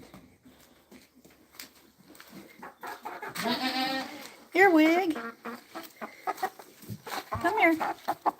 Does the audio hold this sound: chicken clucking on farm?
yes